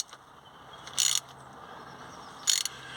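Hand tool being screwed in to pull a new crankshaft oil seal into a leaking Ford Transit Connect, heard as two short metallic ratcheting bursts over a quiet background. Nobody speaks.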